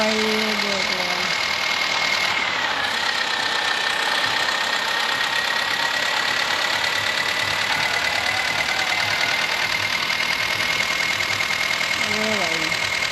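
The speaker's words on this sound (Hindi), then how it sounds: "ये देख लो भाई, ट्रैक्टर फुल स्पीड में भाग रहा है अपना भाई लोग।" A New Holland 3232 tractor engine runs at full speed in a video game, a steady loud mid-pitched drone with a held whine throughout, while someone talks over it.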